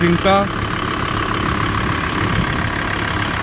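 Volkswagen LT van with a 25 kW engine idling, a steady low rumble that holds evenly throughout at close range, with a brief burst of voice near the start.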